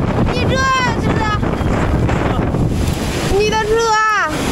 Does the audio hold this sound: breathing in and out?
no